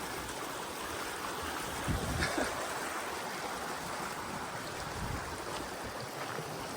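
A stream flows along a Pacific Crest Trail hiking route, a steady, close rushing and gurgling of water that fills the whole stretch with no voices.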